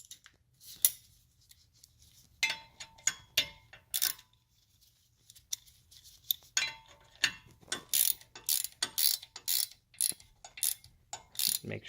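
A bolt being tightened on the brakes of a 2015 Chevy Impala LT, with a run of sharp ratchet clicks in quick bursts, close and fairly loud, interrupted by short pauses.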